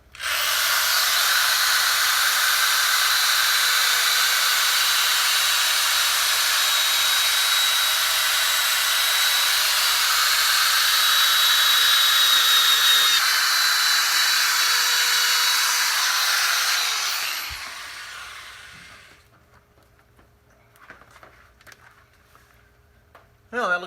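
A high-speed handheld power tool whines steadily and loudly up close while polishing a car headlight, running continuously for about seventeen seconds before spinning down and stopping, followed by faint handling noises.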